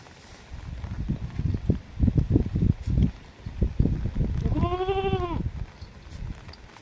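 Goats bleating as they graze in open fields, a clear drawn-out bleat rising mid-clip amid rustling, footsteps and outdoor background noise.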